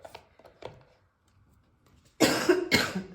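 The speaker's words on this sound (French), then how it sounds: "quand on commence à tousser et qu'on ne veut pas tousser, ben c'est là où on tousse" A person coughs: a few quieter throat sounds at first, then after a pause two loud, harsh coughs close to the microphone.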